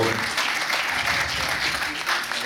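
An audience at a short-film festival in Fasano breaks into sustained applause, a dense, even wash of many hands clapping close and steady throughout, with no voices standing out.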